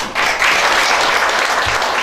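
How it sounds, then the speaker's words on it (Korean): An audience at a regional development forum lecture breaks into steady, enthusiastic applause, many hands clapping at once in a dense, sustained wash of sound. "다시 한번 우리 실장님께 뜨거운 박수 부탁드립니다."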